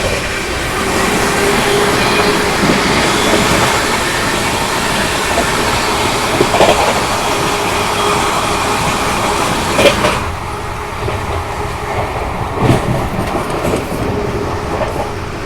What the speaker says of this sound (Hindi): पटना कोटा का ओवरटेक हुआ जस्ट, बयाना जंक्शन से पहले ही करवा दिया।